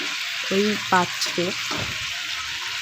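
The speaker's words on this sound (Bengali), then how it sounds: "তো দেখো আমি আলুটা দিয়ে দিয়েছি। এবার আমি কিছুক্ষণ ফ্রাই করব।" Potatoes frying in a pot for chicken kosha: a loud, close, continuous sizzle with a couple of stirring scrapes, while a person speaks briefly over it.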